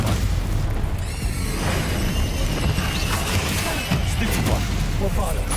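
A Stupefy spell cast amid dense Hogwarts Legacy combat gives a loud, continuous barrage of magical blasts and booming impacts, with a steady rumbling bed and a person speaking over the chaos.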